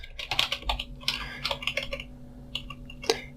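Rapid clattering keystrokes on a computer keyboard while code is typed, an uneven run of close, crisp clicks with brief gaps.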